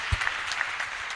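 A church congregation at a Kikuyu thanksgiving service claps briefly, with a few distinct hand claps over a soft roomy wash, heard fairly close and on their own.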